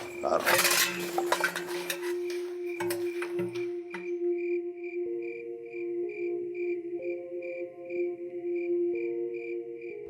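Metal utensils clink and clatter in a few sharp knocks near the start, followed by lingering ringing tones and soft background sounds.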